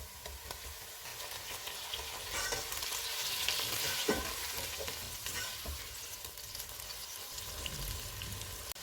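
Tomatoes fry in a pan with onions and ginger garlic paste, a steady close sizzle with occasional scraping stirs and small pops throughout, with no talking.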